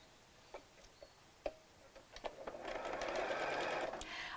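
Sewing machine stitching the hem of a small Barbie doll dress, a few soft isolated ticks and taps building into a steady, quiet whirring run of stitches close by.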